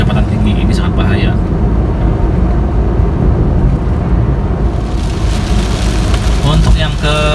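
Rain falls on a Daihatsu Ayla driving along a toll highway between Jakarta and Bukittinggi, a dense steady patter mixed with road and engine roar, loud and close, while someone talks over it.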